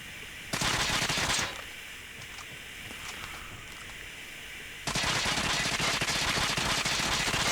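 Type 25 rifle fire in the Call of Duty Mobile shooter game: a loud rapid burst of about one second, a quieter lull, then a second sustained automatic burst running to the end, with no speech.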